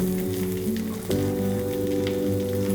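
New potatoes frying slowly in olive oil in a pan, a close, steady sizzle and crackle with a faint bump midway, no talking, over a constant background hum.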